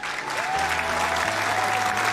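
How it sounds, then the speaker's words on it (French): A small group claps steadily for their own completed creative session, dense continuous applause over a low steady hum and faint tones. "Je vais nous applaudir."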